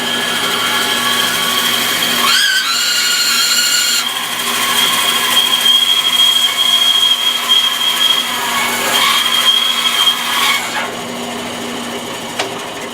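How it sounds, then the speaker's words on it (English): A bandsaw cuts an oak 2x4 in half, giving a steady close whine with a sustained high tone and slight shifts in pitch as the blade works through the wood, running without talk. "So I like to use the bandsaw on these things."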